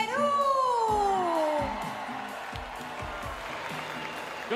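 Audience applause and cheering for the top 10 finalists at the Miss Grand International 2019 pageant, a dense crowd wash under a rising whooping tone, with rhythmic music continuing beneath.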